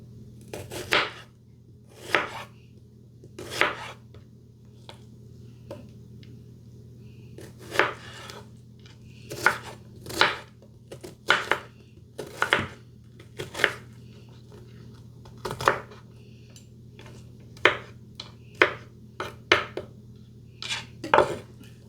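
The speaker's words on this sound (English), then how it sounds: "so we're going to cut up the onion" A knife chops through an onion on a board in sharp, separate knocks, some single and some in quick pairs, spread unevenly over a low steady hum with no talking.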